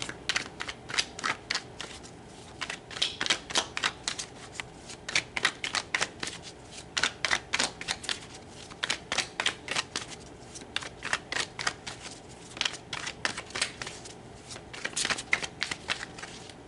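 Tarot cards shuffled by hand, a long run of quick, crisp riffling bursts that repeat in an irregular rhythm, close and clear with no talking.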